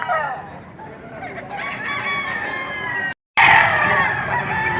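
Stag roosters crowing at a poultry market in Padre Garcia, Batangas, several loud, overlapping crows close by with clucking among them and a brief silent gap before another strong crow.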